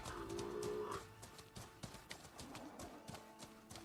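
Rhythmic clopping of a galloping robot mount in Horizon Forbidden West, quick hoofbeats over a low game background, with a tonal sound at the start.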